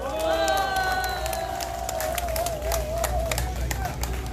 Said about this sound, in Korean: 여러분 해병대 위해서 박수 한번 해주시기 바랍니다.